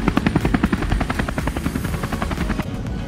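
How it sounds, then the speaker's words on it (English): Helicopter or low plane passing overhead, a steady loud rotor-like chop with rapid rhythmic pulses and a broad engine drone filling the whole stretch, no talking. "I'm going to listen to that plane going by,"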